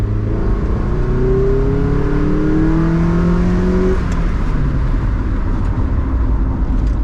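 A JDM front Honda Integra DC2 drives steadily, its engine droning loud and continuous with a rising whine that levels off midway, road and wind noise filling the background throughout.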